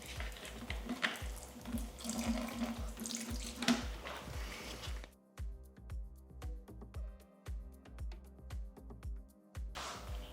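Liquid drains by siphon out of containers holding leftover solutions, a steady close trickle and splash with a rhythmic low gurgling pulse, the rushing flow thinning halfway through and returning briefly at the end, with no voices.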